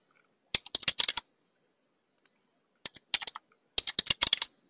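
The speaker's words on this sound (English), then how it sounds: "I'm going to go and type in the password that I normally use to log into my Gmail account." Password being typed on a computer keyboard during a Gmail login, heard as three quick bursts of crisp, close key clicks separated by short pauses, with no talking.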